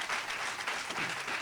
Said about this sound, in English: give Mr. Bauer a warm round of applause